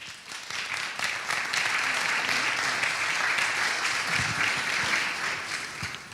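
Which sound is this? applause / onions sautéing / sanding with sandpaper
applause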